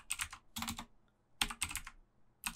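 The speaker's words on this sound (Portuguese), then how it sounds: "Então eu posso digitar meu nome aqui" Quick bursts of computer keyboard keys as a name is typed in, arriving in four clusters of rapid clicks separated by short pauses, close and clear with no voices.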